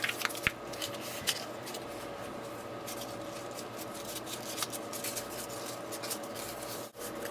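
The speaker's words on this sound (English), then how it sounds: "I'm going to crumple this up." Sheet of paper crumpled by hand while crafting a vintage postal-style birthday card: a steady, close crackling and rustling that runs continuously, with a few sharper crinkles near the start and a brief dip near the end.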